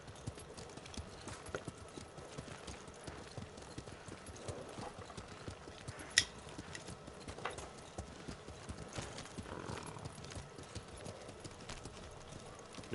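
Horses trot with steady hoof clip-clops in Ghost of Tsushima, a quiet continuous patter of hooves with an occasional louder hoof strike and faint background ambience.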